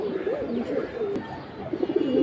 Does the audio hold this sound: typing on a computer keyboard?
no